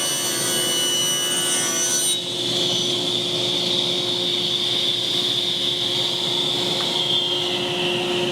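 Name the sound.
sawing a wooden sign board to size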